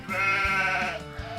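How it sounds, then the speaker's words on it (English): A sheep on a farm bleats in a long, wavering call at moderate loudness, with a few low soft thuds beneath it. "sheep,"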